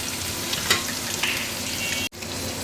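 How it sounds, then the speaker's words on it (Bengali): Chopped onions and green chilies fry in a pan with a steady, close sizzle and a couple of brief stirring knocks, with no voices. "কাঁচামরিচ এগুলো দিয়ে ভাজি করি"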